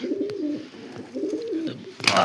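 Malwai white pigeons with white eyes coo close by in two drawn-out, warbling phrases, with a brief rustle at the end.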